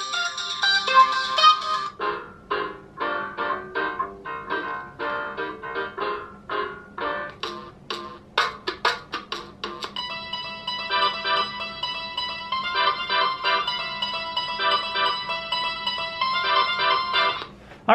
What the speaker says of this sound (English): So these are preloaded songs.